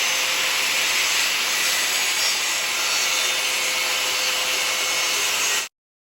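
A circular saw cuts through plywood hardboard with a loud, continuous whining roar. The roar holds steady for several seconds, then stops abruptly into silence.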